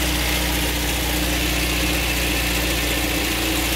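Škoda Favorit engine idling steadily with a low, continuous rumble and vibration, close and loud with no talking, shortly before it stalls.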